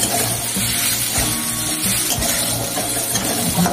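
Spices sizzle as they fry in a pan, with bay leaf and cardamom being toasted for rice payesh made with date jaggery; a steady, dense crackle continues throughout, close and fairly loud, with no talking.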